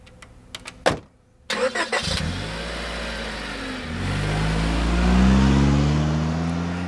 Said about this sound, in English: the car engine to start, and the car to drive away